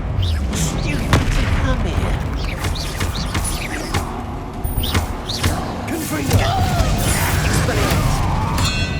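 Confringo spell blasts in Hogwarts Legacy video game combat, repeated booming explosions and crashing impacts over a busy mix of whooshes, clanks and magical effects, with occasional voices shouting.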